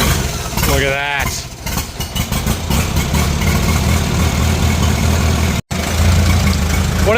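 A 1940 Farmall tractor engine idles outdoors beside a grain cart on a farm, a steady low loping chug running throughout while a person talks over it.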